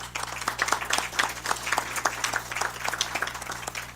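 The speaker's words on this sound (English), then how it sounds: "Let's give her another big round of applause." An audience at a school board meeting gives a round of applause, a moderate spread of clapping with distinct individual claps heard clearly over a low steady hum.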